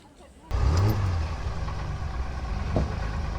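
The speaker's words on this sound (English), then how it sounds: "we've just got the go ahead for engine start" Classic car engines starting up and running at the 2024 Ipswich Felixstowe Classic Car and Historic Vehicle Run, a sudden loud start after a quiet moment, then a steady close rumble with light revving and talk underneath.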